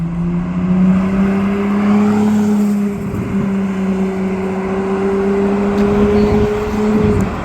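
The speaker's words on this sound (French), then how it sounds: "Ouh là là, Ferrari 296 GTB." A Ferrari 296 GTB supercar drives past, its loud engine drone holding a steady, slightly rising tone for several seconds before fading.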